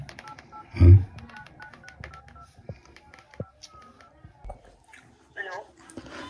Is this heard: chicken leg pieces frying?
no